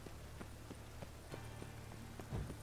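Horse hooves clip-clopping in the video game The Witcher 3, a steady run of soft thuds over a low droning game soundscape, one heavier thump near the end.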